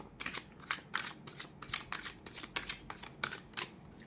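Oracle love cards are shuffled for a tarot reading, a close series of about a dozen crisp riffling bursts in a steady rhythm, with no voices.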